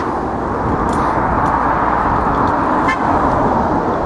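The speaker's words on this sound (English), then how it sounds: "I can't believe they're honking at me." Car horns honk briefly at a pedestrian on a street in Laindon, Essex, over loud, continuous road traffic noise with passing vehicles.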